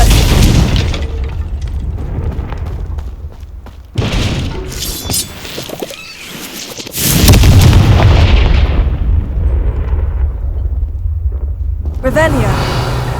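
Confringo spell explosions in the Hogwarts Legacy video game: loud booming blasts with shattering debris, one burst near four seconds and a larger one around seven, trailing into rumbling decay, with game voices over it.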